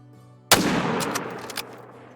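A single loud rifle shot rings out at a mule deer buck while hunting in the video game Call of the Wild, with a sharp crack followed by a long rolling echo and faint distant reports.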